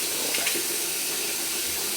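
Hot water running steadily from a tap during a property check-up, a continuous close splashing hiss with no talk over it.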